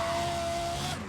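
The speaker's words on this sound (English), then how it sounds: "Forgot about that engine note." Race car engine in the video game Need for Speed: World, a brief loud roaring note with a thin whine that cuts off near the end, no voices.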